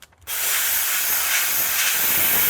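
A steam cleaner hisses steadily and loudly on a C7 Corvette sun visor, softening and lifting a decal; a quiet moment opens before the continuous, close spray of steam begins and holds without pause.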